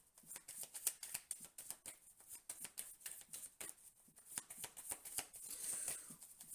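Tarot cards being drawn and shuffled produce a steady run of quick, crisp papery riffles and flicks, close and fairly quiet, with no voices over them.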